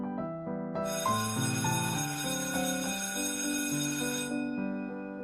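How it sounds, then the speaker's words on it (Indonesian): A school dismissal bell plays a bright, electronic melodic chime of rising and falling tones, loud and close, heard alone without talk for several seconds. "bel pulang pun berbunyi."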